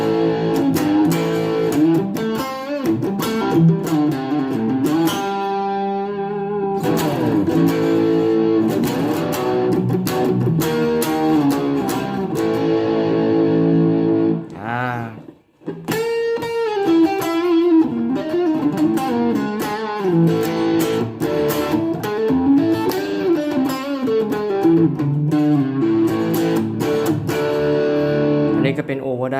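Distorted electric guitar solo tone through a BOSS ME-25 multi-effects unit, loud sustained lead lines and fast runs playing continuously, with a brief drop to near silence midway before the soloing resumes.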